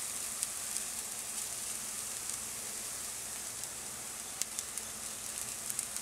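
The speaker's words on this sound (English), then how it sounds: "So now I'm going to add about a teaspoon of mustard seed and a teaspoon of turmeric" Mustard seed and turmeric sizzle steadily in a hot pan, a dense continuous hiss with scattered small pops and crackles, close and alone without talk.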